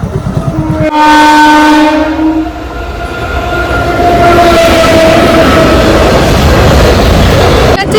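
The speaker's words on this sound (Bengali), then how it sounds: "এখানে রেল স্টেশন থ্রু ট্রেন আসছে অ্যানাউন্সমেন্ট হলো" A train horn blasts loudly, then a through train rumbles and clatters past close by at a railway station, steady and heavy, with a second horn tone sounding midway.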